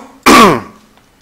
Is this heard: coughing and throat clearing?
yes